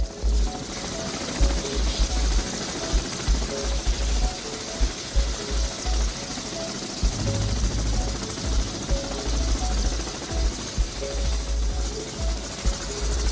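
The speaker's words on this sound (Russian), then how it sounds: "Это вертолет КБ «Камова»." Kamov Ka-32 helicopter with coaxial rotors, heard alone as a steady, loud rotor and turbine drone with a continuous low thumping throughout.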